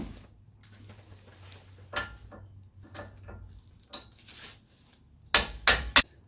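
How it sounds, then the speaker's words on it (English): Several sharp metallic strikes ring out near the end, a quick cluster of hammer blows driving a suspension part into a BMW Z3, after a stretch of quieter clinking and shop noise. "So I'm going to try to hammer it in first"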